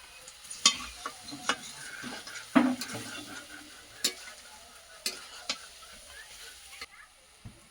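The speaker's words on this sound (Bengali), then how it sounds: "এখন যে আদা বাটাটা দিলাম আর জিরে বাটাটা তরকারিটা কিন্তু একটু সেন হবে" Ginger and cumin paste frying in a chicken curry: a soft, low sizzle with repeated sharp clinks and scrapes from stirring against the pan, spaced a second or so apart.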